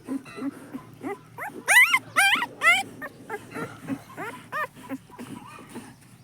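A mother shepherd dog with her newborn litter of five puppies gives out a run of high, close whimpers and yips in uneven bursts, with some quieter snuffling between them.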